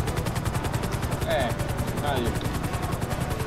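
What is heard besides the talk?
helicopter flying in video game GTA V Online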